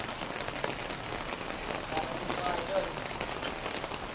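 Steady rain patters densely across the whole clip, a continuous wash of drops hitting a surface, fairly close, with no clear talk over it.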